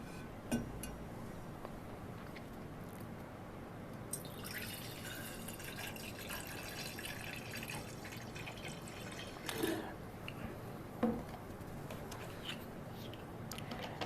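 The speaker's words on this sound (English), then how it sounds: "The next step is to pour grape juice." Homemade grape juice poured into a jar for a muscle battery, heard as faint intermittent dripping and trickling with a few glassy clinks, quiet and close with no talking.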